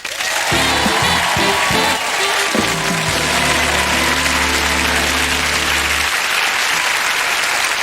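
Loud studio audience applause and cheering fills a television talent show stage, a steady roar of many hands, with band music swelling underneath.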